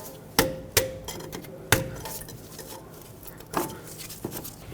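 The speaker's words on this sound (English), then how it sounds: "Using a trim tool, let's remove the ABS wire off of this upper control arm. Just pop the clips off." A plastic trim tool pops ABS wire clips off the upper control arm of a 2003-2012 Chevrolet Colorado 4x4, giving several sharp, close plastic snaps at uneven intervals.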